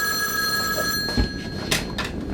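A telephone rings with a sustained electronic tone that cuts out after about a second, followed by a couple of bumps and handling knocks nearby, with no talk.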